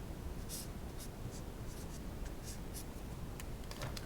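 Marker or pen writing out physics equations for a Griffiths quantum mechanics angular momentum problem, a steady run of short scratchy strokes at close range with no voices.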